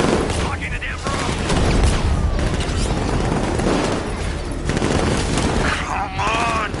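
Sustained gunfire and explosions in Batman Arkham Knight during a vehicle chase, loud dense bursts of shots and booms with someone shouting over them.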